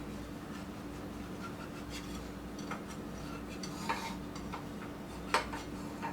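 A utensil scrapes and loosens an Italian breakfast skillet from its pan, giving soft intermittent scraping and a few sharp metallic clinks over a steady low hum, with one louder knock near the end.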